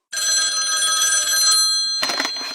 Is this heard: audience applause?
no